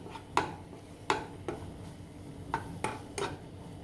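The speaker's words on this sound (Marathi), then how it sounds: "मिक्स करून परतून घेणार आहोत." Almonds, cashew slivers and raisins tossed and stirred in a pan for pineapple sheera, with a spoon knocking against the pan in several separate clinks spaced irregularly over a soft background.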